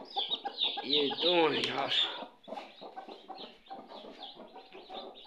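Small Aseel chicks on a desi farm cheep in high, rapid chirps, close and continuous, with someone speaking briefly over them.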